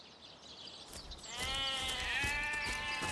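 Sheep bleating in the video game Divinity Original Sin Enhanced Edition, a drawn-out wavering bleat that swells in after a quiet start and carries steadily to the end over ambient game sound.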